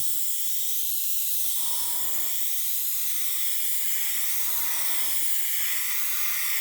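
Airbrush spraying acrylic paint in two short bursts of airy hiss separated by pauses, with steady background hiss throughout and no talking.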